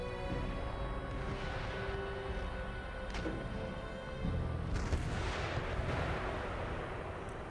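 Artillery batters city walls in Empire: Total War, heard as a steady rumbling battlefield wash with a few muffled booms and cracks surfacing midway, moderately distant and without speech.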